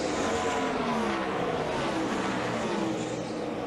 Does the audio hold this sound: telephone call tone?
no